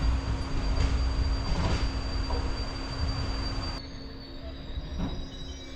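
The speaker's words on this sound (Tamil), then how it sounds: "சிவகாசிக்கு அடுத்ததாக இப்போ ட்ரெயின் உள்ளே வருதாங்க ஸ்ரீவில்லி ஸ்ரீவில்லிபுத்தூர்" The Chennai Egmore to Tenkasi express, train 16101, pulls into Srivilliputhur station with a loud, continuous rumble of rolling rail cars and a sustained high wheel squeal, easing off toward the end.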